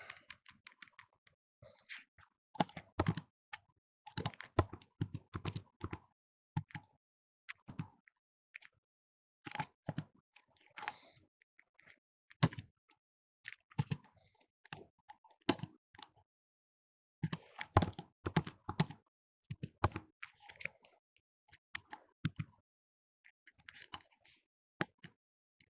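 A computer keyboard types Russian text in irregular bursts of close, crisp key clicks separated by short pauses.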